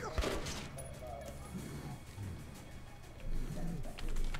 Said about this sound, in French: C'est bon, personne n'a entendu le coup de feu.